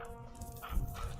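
Dogs in a video game yelp and whimper briefly, a few soft, muffled cries at moderate loudness against a low background hum.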